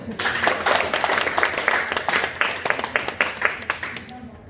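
A church youth group applauds together, dense overlapping claps filling the room at steady volume, with voices mixed in underneath.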